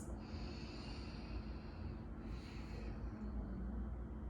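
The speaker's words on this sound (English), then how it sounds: "Continue to breathe in and out through your nose here." Slow, steady breathing in and out through the nose during a yoga stretch for runners, a soft, continuous airy hiss of even inhales and exhales, faint and close with no talking.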